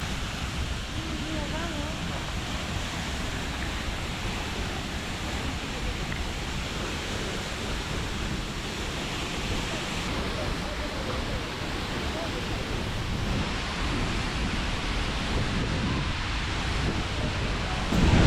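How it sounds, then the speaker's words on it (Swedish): Seljalandsfoss, a 60-metre waterfall of glacier water in Iceland, roars as a steady, broadband wash of falling water heard up close, constant and enveloping for the whole stretch, with a faint rise at the very end. "Ett vattenfall som är 60 meter högt med glaciärvatten."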